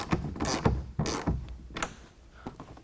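A 1/2 inch ratchet clicks in short bursts while tightening a clamp on a Gator SRX roll-up tonneau cover fitted to a 2017 Ford F-250 pickup bed, with sharp metallic clacks and pauses between strokes, close and fairly quiet.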